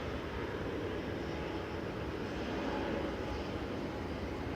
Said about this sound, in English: See FKSV coming in today, a 787-9 Dreamliner with flight 908 from Toronto